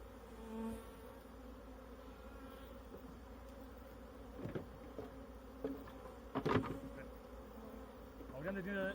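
Honeybees buzzing around the frames of an opened Langstroth beehive during a spring hive inspection, a steady insect drone throughout with brief louder bursts and handling knocks, no talk over it.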